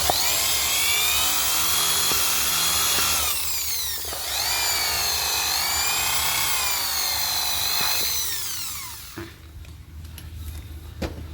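A power drill bores a hole to run a wire for truck running lights, a loud, close high-pitched whine that rises and falls in speed over several seconds before winding down near the end.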